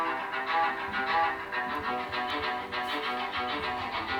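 Music with a steady beat plays from a small Nokia 3.4 smartphone speaker, thin and tinny with little bass, continuing without any voices.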